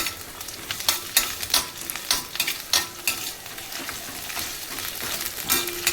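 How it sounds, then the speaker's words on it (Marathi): Ginger garlic paste and onion sauté in hot oil, a steady sizzle broken by a run of rhythmic stirring scrapes, close and moderately quiet. "आणि आता परत ते परतून घेऊया तेलामध्ये"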